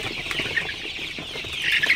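Sonali super hybrid chickens cluck and chatter continuously in an enclosed farm shed in Faridpur, a dense, steady flock murmur with slight swells near the end.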